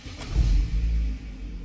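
A 2015 Chevrolet Cruze LT engine catches with a brief low rumbling surge, then settles into a smooth, quiet idle.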